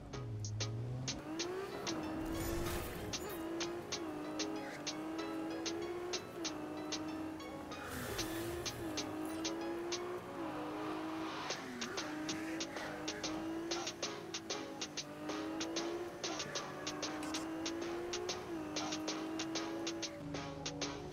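Car driving in Cyberpunk 2077, the engine holding a steady hum that rises and dips through gear changes, with repeated ticking clicks and occasional whooshes over about twenty seconds, fairly quiet and without talk.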